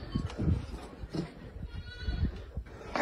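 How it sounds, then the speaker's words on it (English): A sheep bleats desperately in the dark, caught on a trail camera during a bear attack: repeated ragged, strained cries come from close by, broken by rustling and thumps. "You hear the desperate cries of a sheep."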